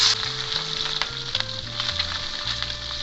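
Tangra fish frying in hot mustard oil with a pinch of salt gives a close, steady sizzle with quick repeated scraping, all in a short burst without talk.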